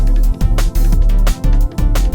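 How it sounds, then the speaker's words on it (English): Wind buffets a microphone outdoors during a handheld CB radio range test, a loud, close low rumble in pulsing gusts with a few brief drops between them. No one speaks. "It's a bit windy out here, so I apologise for the wind noise"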